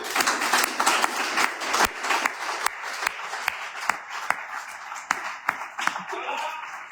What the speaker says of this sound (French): Acclamez-vous le Seigneur Jésus.